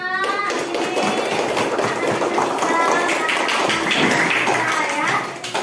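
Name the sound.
group clapping hands for everyone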